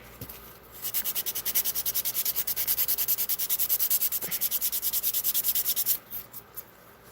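An acrylic nail is filed with quick, rhythmic back-and-forth rasping strokes, close and fairly quiet, running steadily for about five seconds before a few final scrapes.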